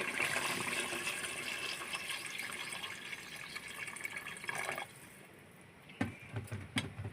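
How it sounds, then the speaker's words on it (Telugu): Water being poured into a pot while making chicken dum biryani, a steady rushing pour that continues for about five seconds before tailing off into a few small splashes and clinks. "దీనిలో నేను ఎసరు పోస్తున్నానండి"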